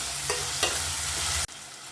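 Chopped tomatoes sauté in a pan with a loud, continuous close sizzle and a few stirring scrapes, cutting off abruptly to a quiet low hiss near the end.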